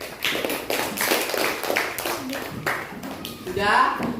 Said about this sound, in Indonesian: silakan dulu tepuk tangan nak